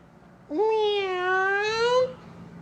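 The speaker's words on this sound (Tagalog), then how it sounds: "Huwag mo kumamiyaw-miyaw dyan!" A cat gives one clear, drawn-out meow lasting over a second, close and loud against a quiet room, its pitch rising at the start and holding steady before cutting off.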